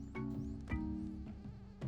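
An insect buzz from a mosquito creature in the platform game Spelunky 2 whines steadily across the whole short stretch, mixed with game music tones and a few soft impact blips.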